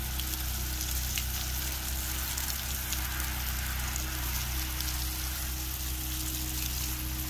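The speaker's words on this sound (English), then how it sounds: "Sounds like someone's pressure washing over there." A pressure washer spraying somewhere off in a garden, heard as a steady, distant hiss of water that holds unbroken throughout, with a low hum underneath and no one talking.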